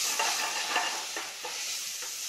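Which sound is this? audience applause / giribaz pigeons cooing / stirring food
stirring food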